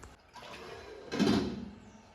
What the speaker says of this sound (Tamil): போட்டுட்டு தண்ணி விட்டுக்கலாம்